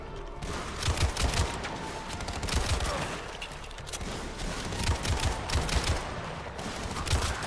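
Gunfire in the co-op shooter John Carpenter's Toxic Commando, a steady stream of rapid shots and bursts with pistol and automatic fire blending into a dense, loud barrage throughout, no talk.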